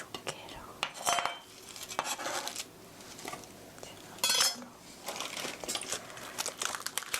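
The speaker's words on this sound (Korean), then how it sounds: "1cm 두께로 썰어주세요" A knife cuts napa cabbage into slices about 1 cm thick on a cutting board, a quiet run of crisp irregular chops and rustling leaves with brief pauses between strokes.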